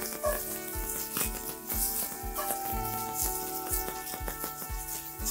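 King oyster mushrooms sizzling in a hot pan as they are flipped, a steady crackling fry with repeated clinks and scrapes, close and fairly loud.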